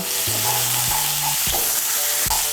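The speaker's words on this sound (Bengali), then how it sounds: "বেগুনগুলোকে ভেজে নিয়েছি" Eggplant pieces fry loudly in oil in a kadai seasoned with salt and turmeric, a steady dense sizzle broken by a few scraping stirs of a spatula, close and continuous with no talking.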